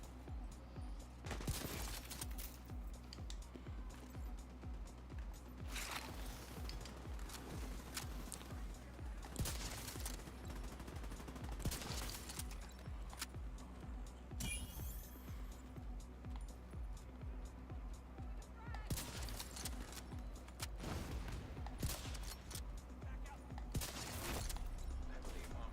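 Gunfire in The Division 2, a third-person shooter, sounds as repeated bursts and single shots at a crash-site control point, loud and sharp over a steady game ambience and music bed.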